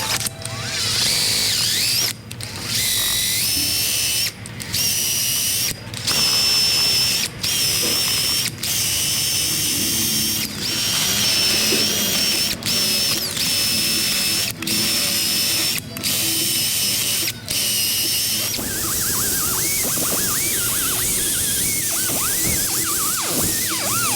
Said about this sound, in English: I'm gonna polish this rust off too